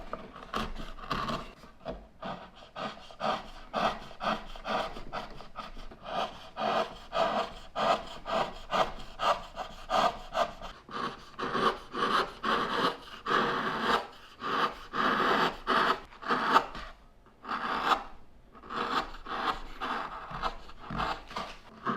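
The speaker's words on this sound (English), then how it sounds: "I'm going to drop this down with my V-gouge and then taper from this direction" Hand tools carving a wooden pumpkin stem, a V-gouge cutting and tapering the wood in short, repeated scraping strokes with a steady rhythm, close and fairly quiet, with no talking.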